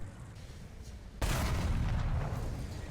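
A single heavy tank cannon shot from the video game War Thunder, fired by a Breda 501, booms suddenly after a quiet stretch, followed by a sustained roaring rumble.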